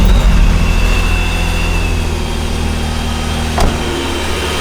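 A supercharged car engine fires up with a heavy low rumble and settles into a loud, steady run, a thin high whine sitting above the throb, and a single sharp knock near the end.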